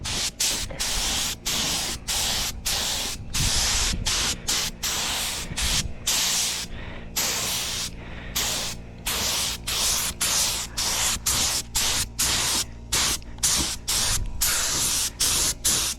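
Spray gun laying a light first coat of clear coat on a Honda Civic, hissing in short rhythmic bursts with brief gaps between passes, close and fairly loud with no talking.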